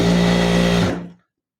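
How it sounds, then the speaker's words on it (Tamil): Sewing machine stitching the hem of a cut-down readymade dress bottom, a loud steady motor whir running continuously, then stopping abruptly at the end. "அதனால் பாட்டத்தையும் தைச்சிக்கலாம்."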